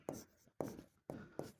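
Pen scratching on paper in short bursts, about four distinct strokes with brief pauses between, quiet and close while a Marathi teacher works through a final-accounts problem on a bank loan's interest.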